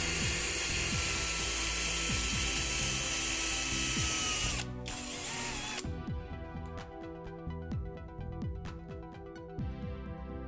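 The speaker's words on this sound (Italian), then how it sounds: "Facciamo un paio di fori sul paraolio in modo da poterci avvitare due viti ed estrarlo comodamente." A power drill bores holes into an oil seal on a Malaguti Fifty scooter engine, a steady loud whine for several seconds that then breaks into intermittent short bursts with mechanical clicks.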